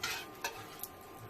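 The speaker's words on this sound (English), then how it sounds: "This induction cooktop really works well when it comes to frying stuff." Soft, steady sizzling of food frying in a pan on an induction cooktop, with a few light clicks and scrapes, quiet and close.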